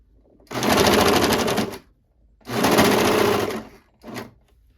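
Sewing machine stitching fabric for a patchwork hoodie, two sustained bursts of rapid, loud mechanical clatter separated by a pause, then a short final burst.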